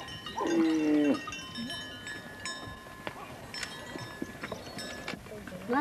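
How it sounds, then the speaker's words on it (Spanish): Mursi cattle herd heading out to pasture in Ethiopia, a deep lowing call at the start followed by scattered hoof, bell-like clinks and outdoor movement, with another moo near the end. "A las 8 de la mañana sale el rebaño de Goroburay en dirección a los pastos."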